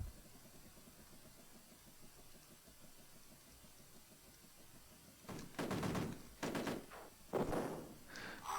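Bursts of Uzi gunfire from the Amiga football game Cannon Soccer, a steady engine-like drone with several loud, rapid rattling volleys near the end.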